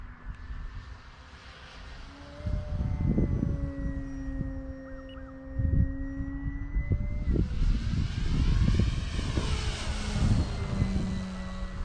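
An E-flite Carbon-Z Cessna 150T RC airplane, 2.1 m span, flies past with a steady electric motor and propeller drone that swells louder in the second half, without voices.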